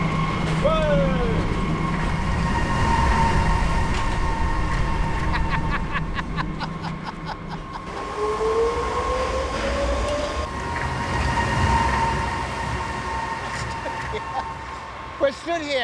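Construction hoists inside an unfinished Hong Kong skyscraper rush past with a loud rumbling, rattling roar like a passing train, with clanks and a rising whine, while people talk nearby.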